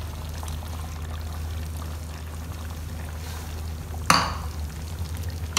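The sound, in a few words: adding tomatoes and yogurt to mutton korma in the pot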